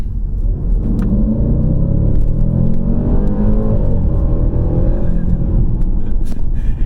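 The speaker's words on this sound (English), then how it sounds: "We'll start by listening to that exhaust note." A deep V8 exhaust from a Range Rover Sport SVR rumbles steadily close by, its pitch rising and falling as the engine revs under load.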